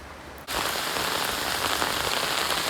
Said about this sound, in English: And as it rains, it keeps dripping on them, and they collect all the water into these buckets.